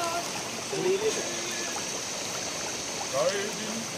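A river stream runs through a forest, a steady rushing wash of water with faint trickles, while a voice speaks softly at times.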